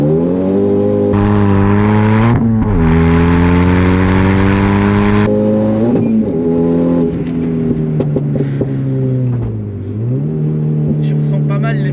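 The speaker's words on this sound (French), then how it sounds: "Le bruit Mégane 2 RS, il est là." A Renault Mégane 2 RS engine revs hard with harmonic, on-off surges of rising and falling pitch, loud and close, as people talk over it.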